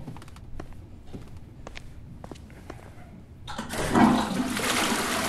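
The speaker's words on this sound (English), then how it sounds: "You had to flush the toilet." Toilet flush in the video game Silent Hill Downpour, preceded by sparse clicks and footsteps, then a loud rushing swirl of water that starts abruptly and keeps going to the end.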